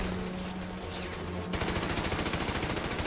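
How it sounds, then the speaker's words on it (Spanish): German machine guns hidden on a hillside open fire in a World War II battle: dense, continuous rapid bursts with a steady stuttering rhythm, loud and close, over a heavy rumble, with no talking. "Pero pronto estallan los disparos y frenan su avance. Aparecen algunas ametralladoras alemanas ocultas en la ladera."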